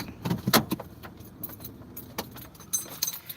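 Keys jangle close by in a few quick bursts, with clicks and light rattles as a car is shut off; no engine noise remains.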